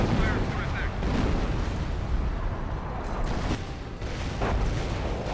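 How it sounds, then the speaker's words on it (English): Artillery bombardment in the Company of Heroes strategy game during a 4v4 battle: a continuous dense rumble of booms and blasts, loud and sustained, with distant impacts merging into a steady roar. "I'm just throwing down all my artillery in that area right now"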